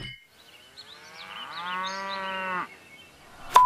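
A cow moos once, loud and drawn out with a rising and falling bellow lasting about two seconds, followed by a sharp metallic clang at the end.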